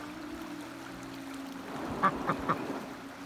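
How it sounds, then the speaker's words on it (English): A duck on a path in Türkiye gives three short quacks in quick succession near the end, fairly faint and close, over a quiet outdoor background. "A duck followed us down the path."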